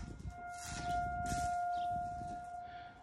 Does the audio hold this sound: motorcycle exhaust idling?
no